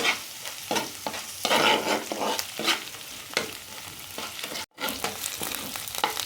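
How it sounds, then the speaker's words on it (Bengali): Ginger-garlic paste frying with lightly browned onions in a pan, a steady close sizzle with repeated stirring scrapes and brief bursts, one short dropout near the end. "এর মধ্যে আমি দিয়ে দিচ্ছি 1 চামচ আদা রসুন বাটা। এটাকেও আমি এর সাথে একটু ভেজে নেব।"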